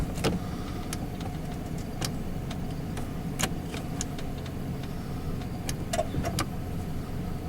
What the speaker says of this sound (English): now the truck decides to spin its tires